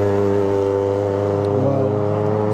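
Mazda Miata race car at a hill climb, its engine holding a steady, loud, harmonic drone close by for the whole moment, with no clear passing or revving.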